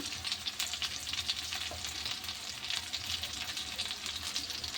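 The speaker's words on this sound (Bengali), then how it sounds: "টমাটো ভালো করে ভেজে নেব" Tomatoes fry in a pan for an egg curry, giving a steady, close crackling sizzle that carries evenly through the whole stretch with no talk.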